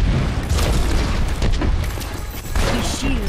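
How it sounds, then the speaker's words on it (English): A turret being destroyed in the shooter Overwatch, heard as loud booming bursts amid dense, constant game noise and effects throughout. "My turret was destroyed."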